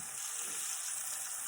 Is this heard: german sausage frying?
yes